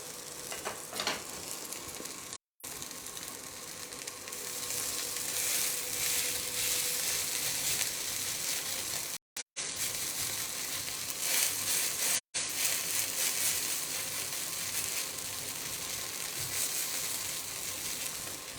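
Food fries in a pan over a low flame, a continuous, even sizzle with light stirring scrapes, steady and fairly close, with no voices.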